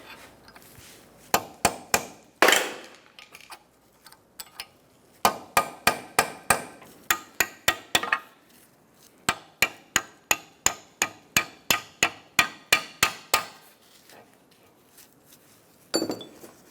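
A hammer striking a chisel to free a frozen snap ring during front wheel bearing work on a 2014-2019 Kia Soul: sharp metallic blows in quick bursts of several strikes, separated by short pauses, close and ringing.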